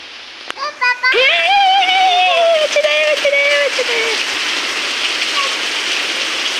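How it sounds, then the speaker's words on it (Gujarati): Rain drums steadily on a car roof while a high voice sings out a long, drawn-out line over the downpour. "કેવો વરસાદ આવે"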